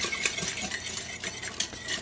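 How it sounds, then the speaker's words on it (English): Spoon stirring a fava bean salad with lemon juice and pepperoncini in a bowl, a soft, steady scraping and clinking close up, continuous for a couple of seconds with no talking. "Stir this up."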